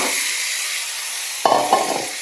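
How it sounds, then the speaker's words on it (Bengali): Marinated chicken is added to browned frying onions in a pan, a steady hiss of sizzling oil followed by a couple of sharp stirring scrapes near the end. "এবার ম্যারিনেট করা চিকেনটা দিয়ে দেব"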